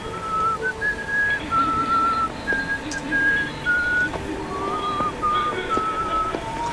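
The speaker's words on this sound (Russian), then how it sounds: "Неужели звук свиста нельзя было получше записать?" Thin, breathy whistling from the game Nosferatu: The Wrath of Malachi repeats in short rising and falling phrases over a hissy background, sounding wispy and poorly recorded.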